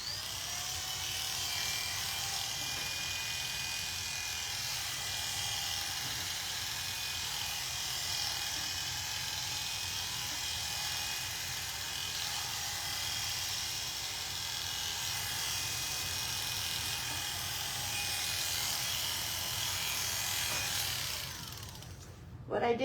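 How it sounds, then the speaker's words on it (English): Electric clippers buzz in a steady, unbroken drone at close range as they shave the top of a schnauzer's head, then cut off abruptly at the very end. "that's so I don't accidentally shave off his eyebrows while I do the top of his head"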